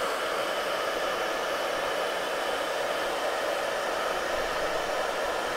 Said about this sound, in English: because this is a hair dryer